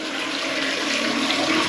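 A toilet flushes with a steady, loud rush of water, the toilet showing an intermittent leak and ball valve fault, heard close and alone without voices.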